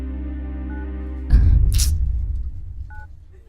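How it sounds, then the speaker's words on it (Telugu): Phone dialing tones from a handset whose call will not connect, a steady tone pattern for over a second, then a clunk and rustling handling noise with a couple of faint short beeps. "ఎన్నిసార్లు ఫోన్ చేసినా ఫోన్ కలవడం లేదు."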